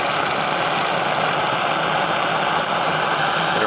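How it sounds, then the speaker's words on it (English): A Saito model steam engine throttled back with its burner turned way down runs slowly, giving a dense, steady hiss and mechanical whir that stays constant and close throughout. "Throttle the engine back here."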